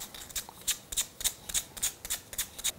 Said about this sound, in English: Then with some 220 grit paper,